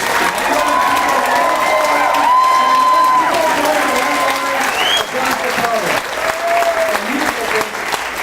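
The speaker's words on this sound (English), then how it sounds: "take a moment and take an applause for yourself" Applause and cheering fill a packed election debate hall, a dense sustained clatter of many hands with scattered shouts and whistles across the whole stretch, loud and close.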